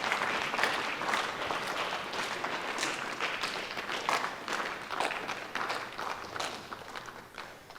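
A church congregation at a live prayer and fasting service claps together in sustained applause, many hands beating in a fairly even rhythm, rising and falling slightly in loudness throughout.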